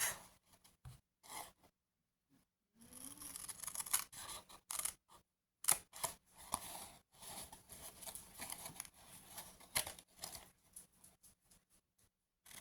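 Scissors cutting scrapbooking paper, a string of crisp snips and rustles in short bursts separated by quiet pauses, close and fairly soft.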